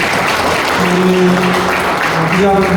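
Applause from an audience at a Korean church seminar on peace on the Korean Peninsula, a dense and loud continuous clatter of many hands, with a voice speaking over it.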